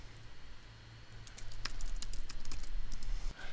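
A quiet stretch of typing on a computer keyboard, a quick patter of light key clicks starting up after a second and running steadily over a low hum, with no talk.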